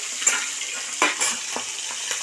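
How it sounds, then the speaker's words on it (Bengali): Hilsa fish head sizzles in hot oil while a utensil scrapes and taps the pan a few times in quick succession. "ওকে ওকে আমার মাছটা ভাজা হয়ে গেল"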